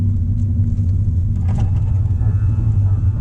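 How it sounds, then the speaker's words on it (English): A turbocharged car fitted with a Chinese test pipe exhaust rumbles with a deep, steady drone from inside the cabin. A faint rising whine from the turbo spooling cuts through partway. "Turbo seems to spool up a little bit faster, almost like it's got a downpipe or something on it."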